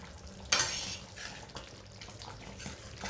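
A spoon stirs brinjal curry in a pan over a medium flame: soft scraping and wet, quietly bubbling sounds with one firmer clink of utensil against the pan, close and fairly faint, without talking.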